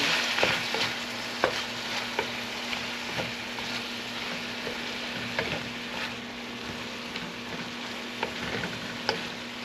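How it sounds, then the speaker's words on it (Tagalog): Vegetables frying in a pan with a little added water give a steady sizzle, with a few sharp clicks and ticks of stirring scattered through it, heard close and without talk. "dinagdagan nyo lang ng konting water para magluto po yung gulay"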